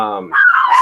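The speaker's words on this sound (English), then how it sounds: "sorry about my dogs barking." Dogs bark loudly nearby in a short burst of sharp, rising yelps that cut across someone talking about a film.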